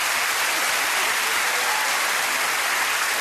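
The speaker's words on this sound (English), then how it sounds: "please give a round of applause for Roisin and her brother Noel" A television studio audience on Surprise Surprise applauds for Roisin and her brother Noel, with dense, loud, steady clapping that fills the whole stretch without pause.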